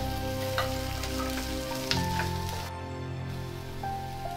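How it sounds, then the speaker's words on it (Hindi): Chopped vegetables (green chili, beans, capsicum, ginger) frying in a pan for hara bhara kabab: a steady close sizzle with occasional stirring clicks, loud and continuous. "इन सारी सब्जियों को हम लगभग 2 से 3 मिनट तक भून लेंगे"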